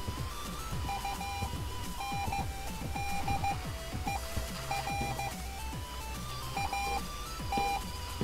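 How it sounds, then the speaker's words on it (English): Repeated short electronic beeps from a radio tower in the video game Dusty Trip, steady and moderately loud over a constant low background hum and rumble. "This beeping noise,"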